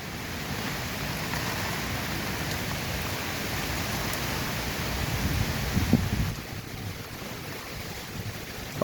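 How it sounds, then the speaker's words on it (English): Storm rain whipping in shifting directions outdoors, a constant dense hiss with a gustier swell midway, no voices present. "the rain is actually whipping different directions"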